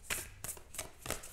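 Moonology oracle cards being shuffled by hand: three quick riffling bursts of crisp, papery card flutter, close and fairly quiet, with short pauses between them and no talking.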